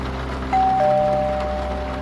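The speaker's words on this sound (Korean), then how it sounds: "나는 초인종을 눌렀다." A doorbell chimes once, a clear sustained electronic tone ringing out over a steady low hum, fading slowly.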